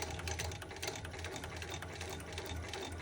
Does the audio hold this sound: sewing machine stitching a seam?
yes